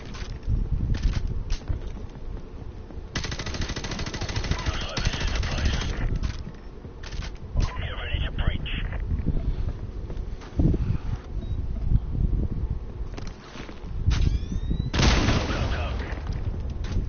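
Gunfire in Call of Duty Modern Warfare Remastered, bursts of automatic shots and loud reports recurring through a busy battle mix, with voices talking over the action.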